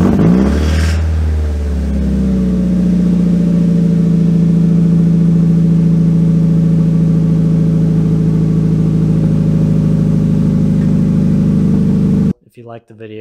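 A Mazda Miata drift car with a welded differential and a newly fitted exhaust starts up and revs, then settles into a loud, steady burble close by, cutting off abruptly near the end.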